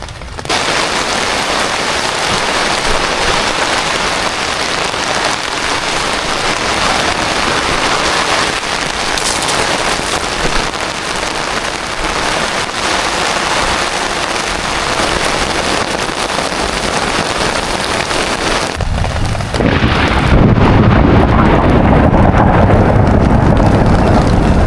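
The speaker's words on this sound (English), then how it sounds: "There's that rain on tent roof sound." Rain falls steadily on a tent roof at a campsite in Kwiambal National Park, New South Wales. The hiss is dense and continuous and loud throughout, and it swells into a heavier, fuller wash near the end.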